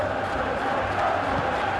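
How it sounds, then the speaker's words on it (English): A large football stadium crowd reacts to a near goal in a match involving Feyenoord, a dense, loud, continuous roar of many voices swelling slightly midway. "you can hear how the crowd are reacting to this too"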